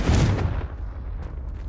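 A Confringo blasting spell goes off in Hogwarts Legacy, a loud booming explosion burst at the start that rolls off into a rumbling decay.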